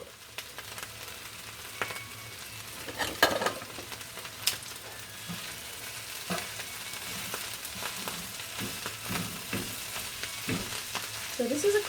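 Kale sautéing in a pan and being tossed with tongs, a steady close sizzle broken by scattered clicks and scrapes of stirring, with no talking.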